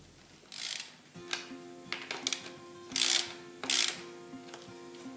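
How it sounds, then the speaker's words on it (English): Metal wrench or socket tightening nuts onto the bolts of a rural tapping saddle on poly pipe, heard close as a handful of clicking ratchet turns and scraping metal bursts, with no talk. "Using a wrench or a socket"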